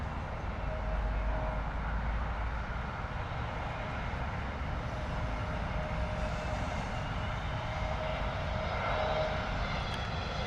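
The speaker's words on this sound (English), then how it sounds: "Aer Lingus A320neo coming in from Dublin" An Aer Lingus Airbus A320neo arriving from Dublin to land at London Heathrow, its engines giving a continuous moderate roar with a faint whine at a middle distance, no talking.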